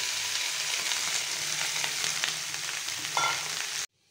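Potatoes with asafoetida stirred in hot oil make a loud, steady sizzle with a few scraping strokes, then cut off abruptly.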